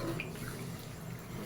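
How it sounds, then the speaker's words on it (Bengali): Boiled mutton broth is poured into a cooking pot, a faint, short, steady splashing trickle of liquid. "সিদ্ধ করে রাখা সেই মাটনের সেই ঝোলটা দিয়ে দিলাম।"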